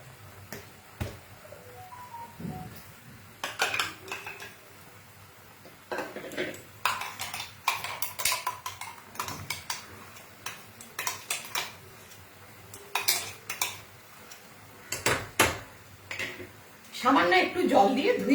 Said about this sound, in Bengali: আমি এবারে কাজু কিশমিশের পেস্টটা মিশিয়ে দিচ্ছি